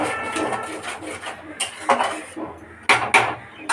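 Masala being stirred and sautéed over high flame in a pan, with repeated metal clinks and scrapes of a spoon against the pan in an uneven rhythm, close and moderately loud.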